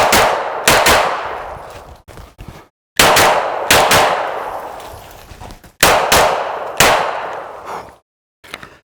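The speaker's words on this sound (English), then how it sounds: "I'm shooting 9mm." Loud 9mm handgun shots crack out close by, fired in quick pairs with ringing echoes trailing each, separated by short pauses.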